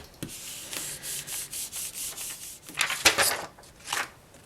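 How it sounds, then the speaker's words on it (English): Cardstock is rubbed repeatedly by hand to transfer a plaid pattern onto a handmade thank-you card, making a close series of soft rhythmic scrubbing strokes with a couple of louder bursts near the end and no talking. "We'll just rub it."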